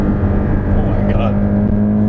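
A Porsche 718 Cayman GTS 2.5 engine is held high in its power band on track, a loud, steady, sustained engine drone close by, with a voice talking over it.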